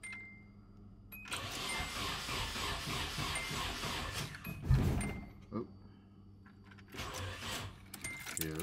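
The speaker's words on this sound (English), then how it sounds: "Alright, guys, let's see if the starter works." A Nissan S13 with a new starter and a weak battery cranks in two bursts: a long, laboured churning of about three seconds, a loud knock and a pause, then a shorter crank that sags near the end.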